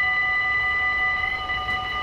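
A GTW train in Train Simulator 2016 rolls in with a steady electric whine of layered tones over a low rumbling hum, continuous and even, with no talk.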